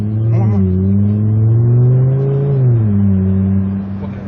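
A car with a modified, louder exhaust revs as it pulls away, giving a deep, steady droning rumble that rises slightly in pitch and then settles, loud and close with no talk over it.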